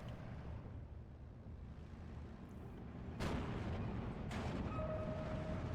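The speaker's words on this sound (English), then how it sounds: "The shelling is continuing on me" Artillery shelling in the wartime strategy game Steel Division 2: a low, continuous battlefield rumble broken by two sharp, loud impacts a second apart, with a thin whine fading in after them.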